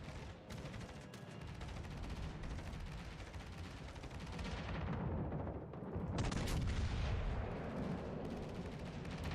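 Heavy warship guns fire in World of Warships Legends, deep booming salvos with rumbling, sustained roar that swells in later volleys, fairly faint overall and free of speech.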